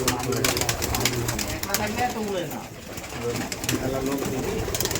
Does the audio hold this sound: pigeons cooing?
yes